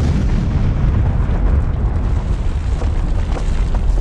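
Continuous loud rumbling blasts and booming, dense and unbroken like heavy explosions nearby, filling the whole stretch with no speech.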